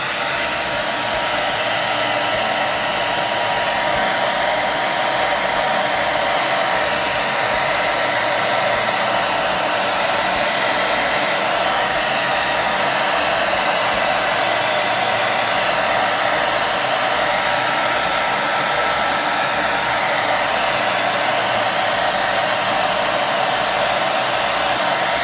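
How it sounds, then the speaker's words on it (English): A hair dryer on its low setting blows steadily for about 25 seconds over handmade candy cane bath bombs, shrinking the wrap around them: a constant, even whooshing hum with no pauses or voices. "you take a blow dryer and you just put it on the low setting and blow dry it"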